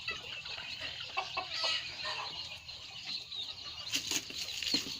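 Chickens being moved to a rice field after a long journey flap their wings in repeated quick flurries and cluck softly now and then, close and fairly quiet, with no talk.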